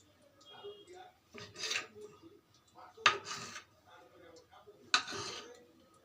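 A knife slices a rolled chicken vegetable roll into small pieces, with a few soft cuts and two sharp taps of the blade against the board or plate. Someone talks quietly between the cuts.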